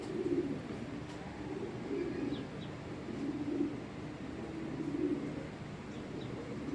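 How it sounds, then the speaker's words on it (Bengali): Pigeons of a long-bodied club racing breed coo in repeated low, throaty rolls at a steady rhythm, close by, with faint chirps and background hum. "এটাও লঙের কবুতর"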